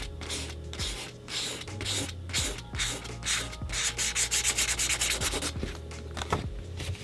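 Erasable highlighter rubbed back and forth across a revision card, a steady close scratchy scrubbing that speeds into quick regular strokes, clear and alone.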